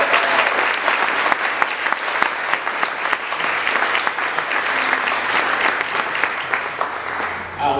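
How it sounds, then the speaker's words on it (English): Sustained applause from an audience honoring the speaker's mom and dad, dense and steady clapping filling the room for the full stretch without a break. "I want to give a quick shout out and a round of applause rather for mom and dad"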